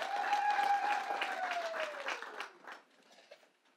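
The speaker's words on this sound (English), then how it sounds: "Let's put our hands together and congratulate him." A launch-event audience breaks into applause, a broad wash of clapping that starts full and loud, then thins out and fades away over the last second.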